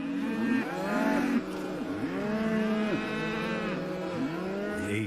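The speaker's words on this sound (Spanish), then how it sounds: "El ganado estaba extremadamente alterado" Agitated cattle on a rural property mooing loudly and repeatedly, long wavering calls overlapping one another with barely a pause, close and insistent throughout.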